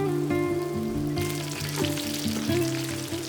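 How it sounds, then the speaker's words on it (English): Kaffir lime leaves and dried chilies fry in hot oil with a bright, crackling sizzle that is close and steady, broken by a few soft knocks of a utensil against the pan, with no talking. "Followed by Kaffir lime leaves, which won't take long at all to become crispy"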